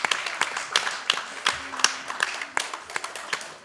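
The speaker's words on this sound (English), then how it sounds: "a big clap for Daddy as well" An audience at a Bhaktivedanta Manor live event claps. The clapping is scattered and fairly soft, made of sharp, irregular hand claps over a few seconds.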